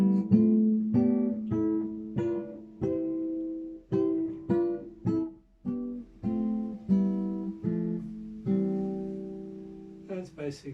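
Several voices move together in three-part harmony over inverted chords, a dozen or so short blocked chords rising and falling in an even rhythm, moderately quiet and close, with no talking over them.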